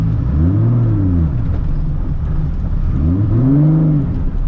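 A 1000+ hp MK4 Toyota Supra engine surges twice as the clutch is let out too far, loud rising-and-falling revs close by inside the car.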